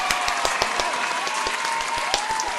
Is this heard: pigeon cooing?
no